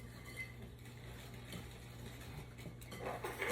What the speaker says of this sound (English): it's 4 cups of flour and 4 cups of sugar, and I'm just gonna kind of mix that around